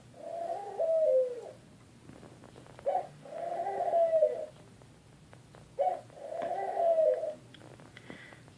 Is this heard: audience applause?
no